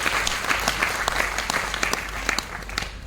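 An audience at a direct-selling business seminar in Jalandhar claps steadily, a dense patter of many hands at moderate distance, sustained throughout without a break.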